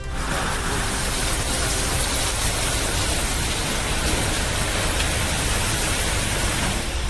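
Heavy hail pelting down amid strong wind during a storm in Punjab, a dense, steady roar of impacts and gusts that stays loud and unbroken throughout, with no voices.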